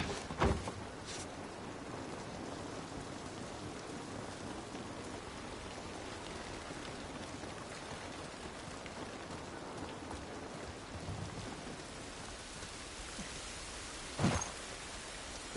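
Steady, soft rain hisses continuously in The Last of Us Part 1, with a distant thunder crack near the start and another sharp rumble near the end.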